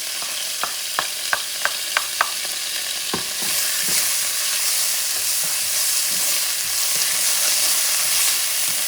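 Cajun trinity vegetables hit hot oil: a few sharp taps come first, then a steady loud sizzle with stirring scrapes continues close by, with no talking.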